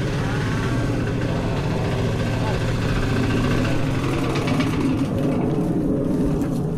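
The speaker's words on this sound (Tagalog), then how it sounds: "Maayos pa yung makina na yan eh" An engine runs steadily at close range, a continuous low rumble that holds level throughout.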